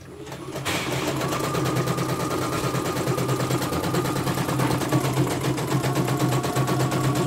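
An embroidery machine at a service centre in Pati, Central Java, runs steadily during a test. It starts after a brief pause and keeps a close, continuous rapid stitching rattle with a humming motor underneath.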